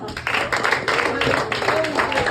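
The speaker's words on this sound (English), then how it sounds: "So again, could you clap for yourselves?" A restaurant crowd claps for itself, a short burst of scattered hand claps under a speaker's voice in a lively room.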